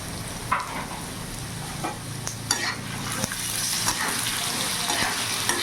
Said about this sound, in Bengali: আলুটাকে ভালো করে লাল লাল করে ভেজে নেব